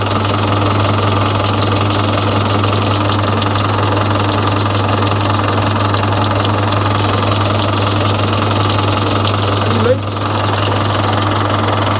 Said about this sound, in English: What's that noise there? Yeah, that's an unusual sound. Sounds like an engine running.